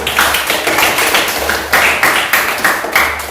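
Classroom applause, a group of hands clapping in a steady rhythm with regular stronger bursts, close and loud, with no talking over it.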